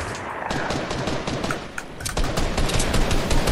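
Rapid automatic gunfire in a Fortnite duo match, dense bursts of shots rattling continuously and loudly throughout with no pauses.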